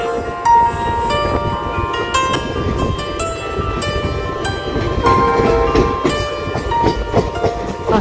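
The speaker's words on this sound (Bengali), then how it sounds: "আমাদের ট্রেনটি এখন নিউ বনগাইগাঁও ঢুকছে" The long-distance Silchar Express rolls slowly into New Bongaigaon Junction in Assam, a loud continuous rumble with clattering wheels, metallic squeals and clanks from the carriages, and no voices.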